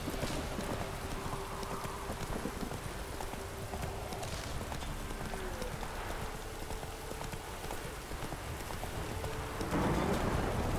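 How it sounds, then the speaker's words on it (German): Steady, dense rainfall pours down in The Witcher 3. It is a constant close hiss with horse hooves clopping underneath and no voices. "Es regnet hier in einer Tour."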